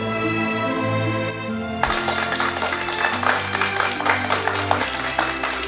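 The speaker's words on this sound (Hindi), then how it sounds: "तालियां।" Applause for a top-ranked student breaks out suddenly after a short stretch of music, a dense, steady clapping that stays fairly loud over a lingering background tone.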